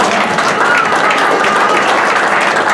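A congregation at a Pentecost church service in Dallas applauds and cheers for the Lord, with steady, dense clapping and crowd noise filling the space throughout.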